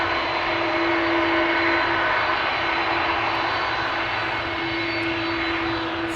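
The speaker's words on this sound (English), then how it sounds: "FWAF flying as KLM flight 765 to Oranjestad in Aruba. An A330-200." An 18-year-old KLM Airbus A330-200 jet airliner at Amsterdam Schiphol Airport gives a loud, steady, continuous engine roar that holds unchanged throughout, with no voices.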